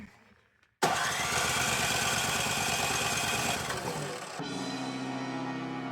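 A Husqvarna 924 HD snowblower engine is cranked after a repair attempt: a sudden loud, continuous cranking roar runs for several seconds without catching, then drops to a lower steady whir.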